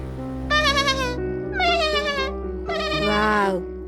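A young lamb lost from its flock bleats in three wavering, quavering cries, each about half a second to a second long, with short pauses between, loud and close over a low steady background hum.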